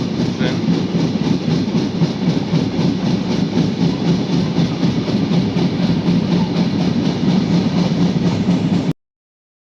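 The Jahanabad Express passenger train running, with a loud, continuous rumble and a steady, rhythmic clatter of wheels over rail joints, heard from inside and ending abruptly.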